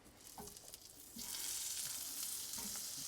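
Butter melting and sizzling in a hot pan while making shrimp scampi, a steady frying hiss that swells louder after the first second and holds, with faint utensil taps, no talking.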